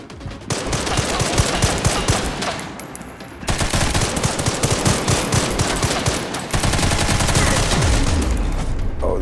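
Dense automatic gunfire from the video game Resident Evil Requiem rattles on almost without pause, loud and close, with overlapping rapid bursts and a brief lull partway through.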